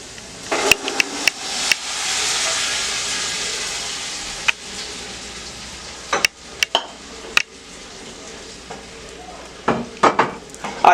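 A spoon stirs axoxó corn dish with dendê oil and shrimp in a pan, with a steady sizzle beneath sharp, irregular scrapes and clinks of utensil against the pot, close and fairly loud.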